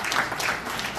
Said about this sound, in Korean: 박수로 먼저 환영을 하겠습니다.